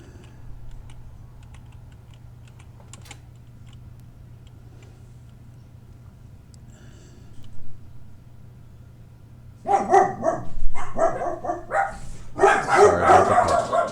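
A puppy lets out loud, excited yips and barks near the end, after a quiet stretch of soft keyboard typing.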